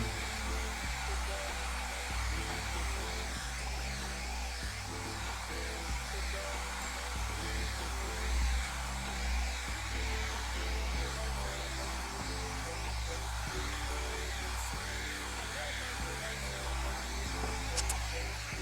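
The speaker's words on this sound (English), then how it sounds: "let's blow dry this, and we'll keep going" A hair dryer blows steadily for the whole stretch, a loud continuous rushing whir at even strength with no talk.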